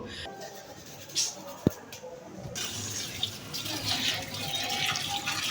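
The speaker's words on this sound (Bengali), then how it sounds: "আমরা এগুলো সুন্দর করে আগে ধুয়ে নিচ্ছি" Coriander leaves bought at the market are rinsed under running water for jhal muri, a steady tap splash with faint handling clicks, fairly close and at moderate level, with no talk.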